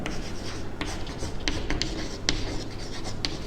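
A pen scratches across paper while a coordinate geometry solution is written out, with close, soft strokes and sharper ticks in an irregular rhythm.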